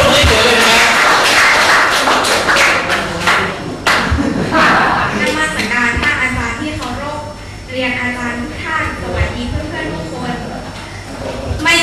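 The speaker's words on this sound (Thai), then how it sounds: "เสียงปรบมือต้อนรับนางสาวอภิญญาทองตะกูลครับ" An audience at a Buddhist youth training camp at a temple gives a burst of welcoming applause, sharp and loud at first, then fading as a voice begins speaking over the last scattered claps.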